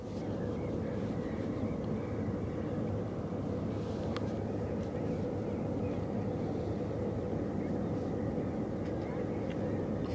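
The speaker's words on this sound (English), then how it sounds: "That boat is noisy as hell." A noisy small boat passes on the Westerschelde, its engine a steady low drone lasting the full ten seconds, moderately distant under outdoor background noise.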